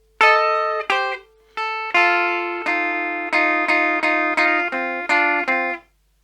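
Clean electric guitar picking a rockabilly riff, with bright ringing notes, short gaps, then a run of steady even notes alone.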